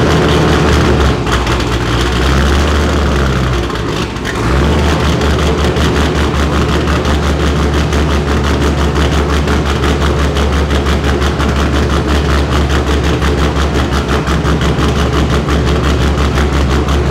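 An LS-swapped Mazda Miata with a custom exhaust idles steadily with a deep, rumbling exhaust throughout, briefly dipping once near the start, then holding a loud, continuous throb.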